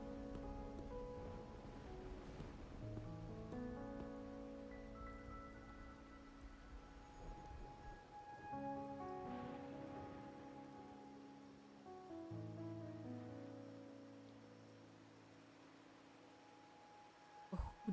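Steady rain falls in the video game Wuthering Waves, a soft continuous hiss running beneath sustained musical tones for the whole stretch.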